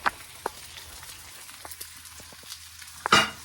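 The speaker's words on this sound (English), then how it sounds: "So our tomato is frying now" Soft crackling sizzle of a Dragon Beef tomato frying in a pan, with sparse pops and a louder burst of spattering near the end.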